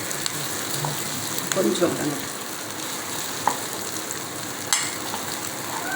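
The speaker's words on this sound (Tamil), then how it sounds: "முதல்ல வெங்காயம் பூண்டு பச்சை மிளகாய் வந்து முதல்ல தனியாகவே வதக்கிங்க" Onion, garlic and green chili sauté in a hot pan with mustard seeds and asafoetida, a steady sizzle and crackle with a few scraping stirs, while a voice speaks briefly over the cooking.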